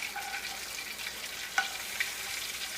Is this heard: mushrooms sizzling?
yes